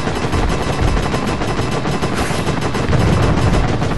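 Rapid continuous machine-gun fire from the Heavy Weapon Deluxe arcade tank game, a loud, dense, unbroken rattle of shots lasting throughout.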